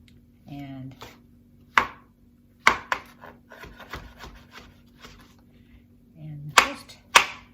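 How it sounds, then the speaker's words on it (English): A knife slices washed mushrooms on a cutting board in a home kitchen, giving sharp, irregular taps spaced a second or so apart, close by, with brief bits of a voice between the cuts. "just sliced up into kind of manageable pieces"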